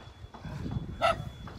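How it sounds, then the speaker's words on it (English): A single dog bark rings out fairly close over a low outdoor rumble, brief and sharp, with a fainter second yelp shortly after. "Who is barking here?"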